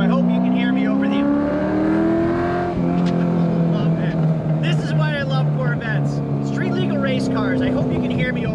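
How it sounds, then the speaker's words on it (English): A loud, throaty Corvette with a Borla exhaust drones and revs close by throughout, with a voice talking underneath the engine roar. "I hope you can hear me over that Borla exhaust."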